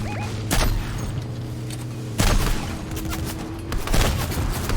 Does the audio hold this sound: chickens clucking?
no